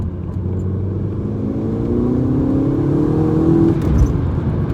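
A 2012 Volkswagen Golf GTI 2.0 TSI engine revs up steadily with the exhaust valve closed, its pitch climbing over several seconds before easing off, a muffled mid-range drone close by.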